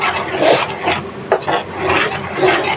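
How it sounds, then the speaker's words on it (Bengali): Spices being stirred and fried with fish in a pan, a steady scraping and rubbing rasp with repeated strokes, close and fairly loud. "তো মশলাটা ভালোভাবে কষায় নিই।"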